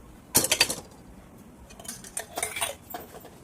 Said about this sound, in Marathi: कढईमध्ये मी आता तूप घालते